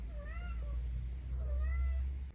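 Two drawn-out meows from a house cat, close and clear, each a rising-then-falling wail, with a low steady background rumble between them.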